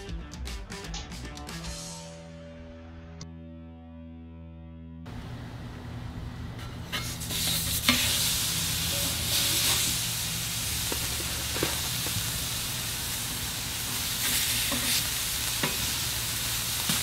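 Sirloin burger patties of USDA Prime beef hit a hot Ballistic griddle. After a few clanks and a quiet gap, a loud, steady sizzle takes over and continues with occasional spatula scrapes. No one speaks.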